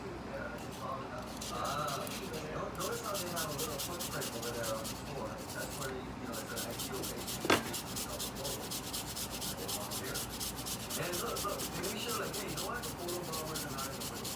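Fresh ginger grated on a grater over a sauce with green onion, giving a steady, continuous scratchy rasping under quiet background, close and even throughout.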